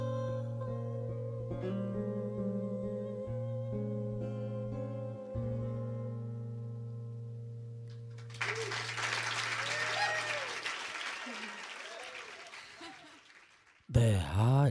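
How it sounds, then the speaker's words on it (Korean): Live audience applause closes a recorded performance of a song, a dense, loud burst of clapping that swells in after sustained music fades, continuing for several seconds and rising again sharply at the very end. "라이브 곡을 녹음해 놓은 거다 보니까 박수도 나와 있고 그렇네요"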